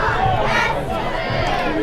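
A crowd in the stands at a high school football game on Youth Football Night, loud and busy with overlapping chatter and shouting, with a voice talking over it.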